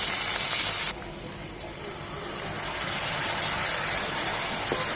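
Hot water is poured into ground turmeric, chili and roasted cumin in a cooking pan, a steady gushing stream that carries on for several seconds after a brief louder start.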